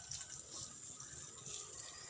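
Water pours steadily onto plants just fertilized with Ripple 14 and salt, a continuous soft splashing and gushing at moderate distance with no pauses or voices.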